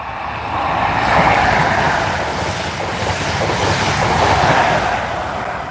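A train rumbles past in a steady, loud roar of wheels and wind, rising and falling slightly with no voices; two number 43 trains coming in.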